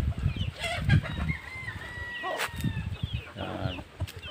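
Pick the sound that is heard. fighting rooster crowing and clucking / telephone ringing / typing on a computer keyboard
fighting rooster crowing and clucking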